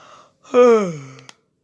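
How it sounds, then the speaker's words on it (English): A single long, drawn-out yawn, rising then slowly falling in pitch, close and fairly loud, ending with a small click. "sorry if I keep on yawning, everyone."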